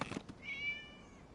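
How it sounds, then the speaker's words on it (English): A cat in a video game gives one drawn-out, rising meow, clear and fairly close, following a brief soft sound at the start. "It was just a cat."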